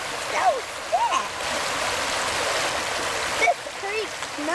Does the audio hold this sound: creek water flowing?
yes